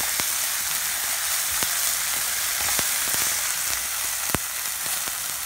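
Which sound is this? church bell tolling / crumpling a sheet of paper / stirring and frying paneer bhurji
stirring and frying paneer bhurji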